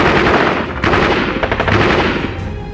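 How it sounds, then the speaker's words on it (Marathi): Dense, continuous gunfire from Thailand–Cambodia border fighting, with rapid overlapping bursts and sharp cracks ringing out loud and close, no voices heard. "युद्ध पेटलंय, अंधाधुंद गोळीबार होतोय, ड्रोन हल्ले होत आहेत"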